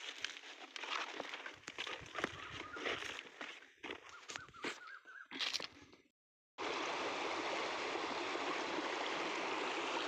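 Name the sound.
irrigation water flowing through an opened gate into a field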